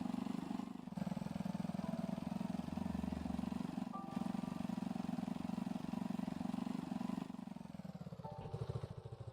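A motorcycle engine in a video game drones steadily at a medium pitch, near and continuous, with a slight drop in tone near the end.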